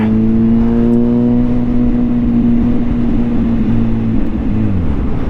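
Engine of a 2023 Kawasaki ZH2 motorcycle running loud and steady with strong harmonic drone, pitch holding then dropping near the end as it shifts clutchless with a blip shifter, with wind noise throughout.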